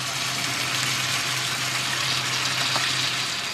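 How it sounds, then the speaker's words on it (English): Steady, loud sizzling of chicken and vegetables stir-frying in a hot pan, a continuous crackling hiss with faint stirring underneath and no talking. "chicken's cooked, stirred it all in, chuck some veggies in"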